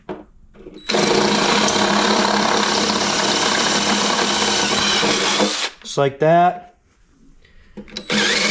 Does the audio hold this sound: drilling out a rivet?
yes